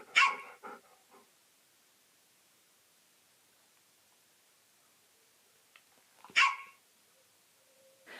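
A dog barks in two short bursts, one at the start and another about six seconds later, separated by near silence, with no talking; the barks fit a setting of a phone dog translation app.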